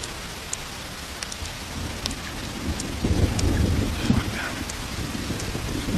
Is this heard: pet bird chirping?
no